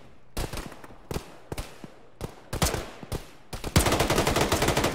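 Gunfire in the Arma military shooter played by a ShackTac group: repeated sharp shots and bursts, growing into dense, sustained automatic fire by the end, loud and close with no talking.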